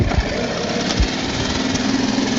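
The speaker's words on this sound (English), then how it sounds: "As you can see on the first pull, the engine started right away." A LEHR propane-powered 2.5 four-stroke outboard motor running at a trade show, a steady buzzing, chattering engine drone that stays level throughout, close by, after a couple of low thumps at the start.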